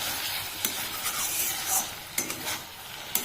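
A spoon stirs okra curry with potatoes in a pan after a drizzle of raw mustard oil; steady close sizzle under scraping strokes, with a few sharper knocks of the utensil against the pan.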